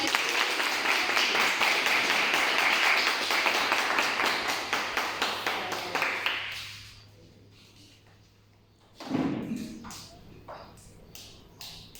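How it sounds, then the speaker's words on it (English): Sustained clapping from a group at a teen workshop, loud and dense, tapering off into scattered claps before falling quiet; a few brief voices follow. "Let's give them a round of applause."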